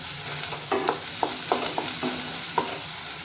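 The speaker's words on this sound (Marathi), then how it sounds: "कांदा थोडासा भाजत आला की त्याच्यामध्ये घालून घेऊया क्रश केलेलं आलं लसूण. तेही छान मिक्स करूयात." Onion frying with crushed ginger and garlic for a dhaba-style chana masala, a soft continuous sizzle with a handful of spoon scrapes as it is stirred, close and fairly quiet.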